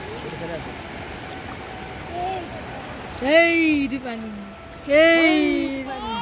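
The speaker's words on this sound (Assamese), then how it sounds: "এইফালৰ পৰা পানী পুৰা খল খল খল খল" Water flows and gurgles at Bhairabkunda, a picnic spot in Assam, as a constant rushing wash. Voices talk loudly over it at intervals.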